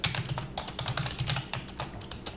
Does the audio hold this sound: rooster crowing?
no